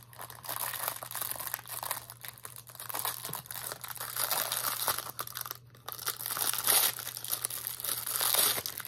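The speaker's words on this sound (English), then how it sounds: "Let me get my scissors and get it open." Plastic packaging crinkles and tears near the microphone while it is cut open with scissors, giving continuous crunchy rustling in uneven bursts for several seconds.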